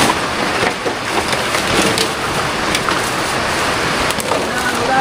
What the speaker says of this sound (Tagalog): Ulan, lumakas na.